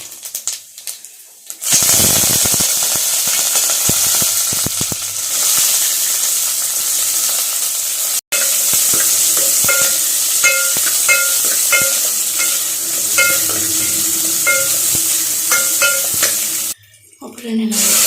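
Cumin seeds hit hot oil for a rasam tempering and set off a loud, steady sizzle, with light metallic clinks of a utensil against the pan. The sizzle cuts off abruptly near the end.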